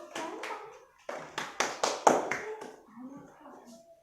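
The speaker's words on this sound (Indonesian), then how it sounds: "Tepuk tangan buat kelompok 1" Students in an elementary classroom applaud a presenting group during a math lesson: a few short bursts of close hand clapping mixed with children's voices and chatter.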